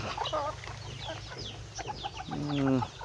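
Native breeder roosters and chickens at a small backyard poultry farm cluck and call in a short burst, ending with a louder drawn-out crow-like call near the mic over a low background hum.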